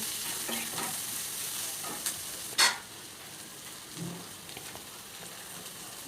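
Onions fry quietly in a pan with salt and turmeric for a gongura curry. A soft, steady sizzle is broken by a sharp stirring clack midway, then a few light scrapes.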